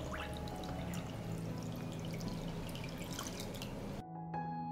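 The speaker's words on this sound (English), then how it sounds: "I pour water into the pot up to the height of the lid." Water is poured into a cooking pot holding jars set on a cloth, a continuous splashing stream that stops abruptly, followed by a few faint drips.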